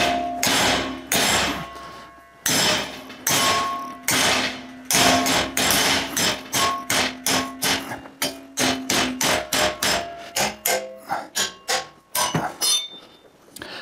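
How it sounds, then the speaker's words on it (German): A hammer beats on a steel hook to bend it in a cold-weld strength test, giving a long run of loud, sharp metallic blows that come faster toward the end, with no talk. "mit dem Hammer von vorne nach hinten kloppen"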